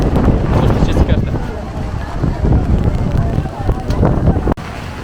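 Gusty wind and rain on a beach in Mumbai during the rainy season, loud blustery roaring against the microphone with uneven surges, voices talking at times underneath.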